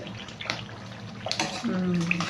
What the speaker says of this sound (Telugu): కొంచెం వాటర్ వేసుకుందాము ఒక హాఫ్ గ్లాస్ వేస్తున్నానండి